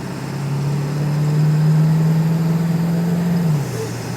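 A 1999 Ford F250 4x4 pickup with the 7.3L diesel and heavy load pulls away from a standing start, its engine droning in a low, steady tone that rises slightly then drops as it shifts, close and loud with no talk.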